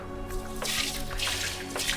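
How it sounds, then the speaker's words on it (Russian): Milk pours steadily into a container for homemade cheese, a soft liquid trickle with faint dripping that rises and falls in a few broad swells, close up and without talk. "Я пока молоко наливаю"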